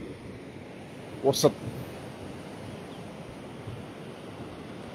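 Sea waves at San Pedro beach in Ivory Coast make a steady, broad wash of surf mixed with wind noise, and a voice briefly says a word.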